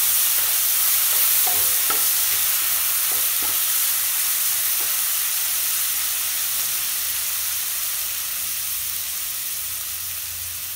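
Ginger garlic paste sautéing in hot oil for channa masala gives a loud, steady sizzle throughout, with a few light stirring taps early on and no voices.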